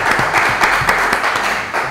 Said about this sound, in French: Merci de l'applaudir et de l'accueillir aujourd'hui.